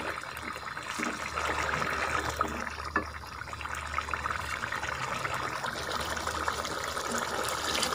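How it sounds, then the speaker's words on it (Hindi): Water is poured into a simmering black chickpea curry masala, making a continuous soft splashing trickle at a steady, fairly quiet level throughout with no talk. "अब इस स्टेज पे इसमें पानी डाल देना है शोरबे के लिए।"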